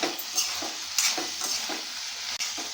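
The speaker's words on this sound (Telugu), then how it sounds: "ఉప్పు కారం వేసాక కలుపుకుందాము ఇలా ఈ విధంగా కలుపుకొని ఒక నిమిషం పాటు వేగనిద్దామండి" A spoon stirs a broad bean, potato and tomato curry with salt and chili powder in a hot pan, rhythmic scraping strokes over a continuous low sizzle, close and clear.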